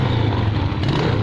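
A small Suzuki New Smash motorcycle engine, somewhat temperamental and under restoration, runs with a steady, buzzing drone close up, holding throttle without clear rises.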